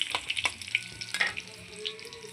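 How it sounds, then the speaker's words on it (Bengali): Garlic frying in hot oil as the tempering for a taro curry. A soft, close sizzle is broken by several sharp spits and scrapes from stirring, with no speech. "প্রথমে রসুন ফোড়ন দিয়ে দেবো রসুনটা একটু লালচে লালচে হয়ে যাবে"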